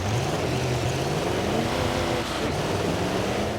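Deberti Ford F-250 truck in Forza Horizon 5 with a steady, loud engine drone and rising revs, continuous throughout and with no voices.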